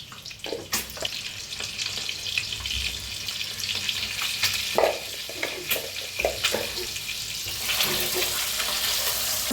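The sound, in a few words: eggs frying with salt and turmeric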